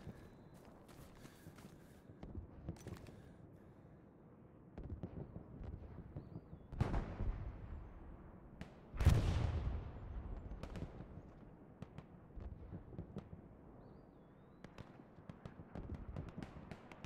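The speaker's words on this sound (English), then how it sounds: "I saw the explosion before I heard the sound." A distant explosion in the World War II shooter Hell Let Loose: one sharp, loud boom near the middle with a rumbling tail, among scattered faint gunshots and footsteps.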